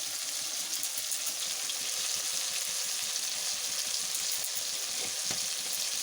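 Spices and tomato frying in hot oil for a vegetarian pea and spinach dish, a steady close, dense sizzle crackling evenly throughout with no voices.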